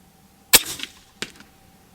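An AirForce Texan LSS air rifle fired at full power gives one sharp, loud crack, and a second, softer report follows a moment later in a quiet outdoor setting.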